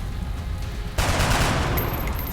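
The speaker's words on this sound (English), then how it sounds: "we're going to rapid fire" Rapid-fire gunshots in the video game XCOM: Enemy Unknown: a dense, loud burst of continuous gunfire breaks in suddenly after a low background hum and sustains to the end, with no talking.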